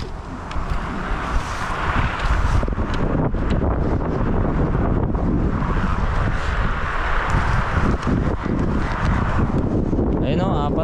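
Strong typhoon wind roars continuously and loudly across the microphone, buffeting in gusts, with a voice talking faintly beneath it.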